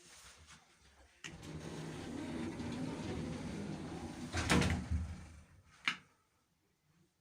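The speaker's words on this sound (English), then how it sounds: "Lift going up." A 1990s Stannah passenger lift in a Waterstones bookshop in Chichester travelling up to the first floor: a steady low motor hum with a couple of clunks and a sharp knock before it settles into quiet.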